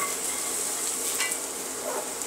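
Shallots browning in a hot pan make a steady, close, bright sizzle with faint crackles, without pause or voices.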